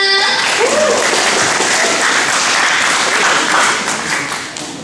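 An audience at a talk or event applauds steadily, a dense wash of clapping filling the room for several seconds before thinning slightly toward the end, with a faint voice briefly audible early on.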